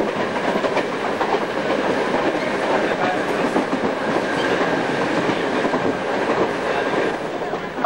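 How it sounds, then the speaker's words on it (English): Mumbai suburban local train, the first service of the day from Kalyan toward Victoria Terminus, rumbles steadily with continuous wheel and carriage noise heard from on board, without a pause. "We're on the first train out of Kalyan, a suburb in the north, and we're on our way to Victoria Terminus"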